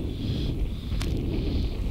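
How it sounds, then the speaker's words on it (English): Strong wind blows steadily across a golf course, a continuous low buffeting roar against the microphone with a faint brief rustle near the middle. "Well, the wind is there"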